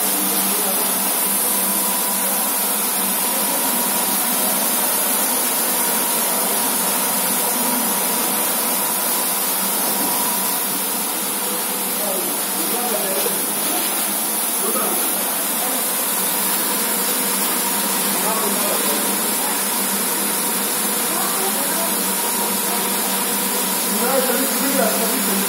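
An automatic carpet washing machine newly installed in Kızıltepe, Mardin runs with a constant loud whirring drone and broadband hiss that holds steady throughout, with faint voices in the background.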